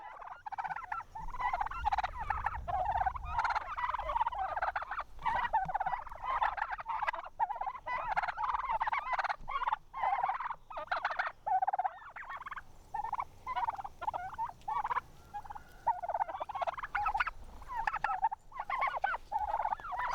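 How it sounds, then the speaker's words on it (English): A flock of turkeys, including bronze-breasted birds, gobbling and chattering continuously, many overlapping calls close by with brief pauses, no talk. "let's give you a quick view of our turkeys."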